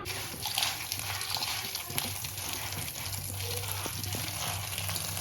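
Puffed rice is being washed in a bowl of water, a steady close sloshing and trickling of liquid with no pauses.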